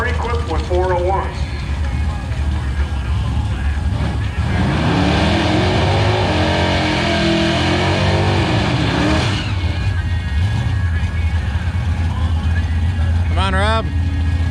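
Engines of AMC Gremlin drag race cars, V8s of 300 to 401 cubic inches, roar loudly at a national AMC drag racing event and rise in pitch as they accelerate. A commentator talks over them.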